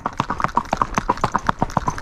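Hooves of a horse moving at an intermediate walking gait, a quick, even run of crisp clip-clop beats, close and clear with no talking over them.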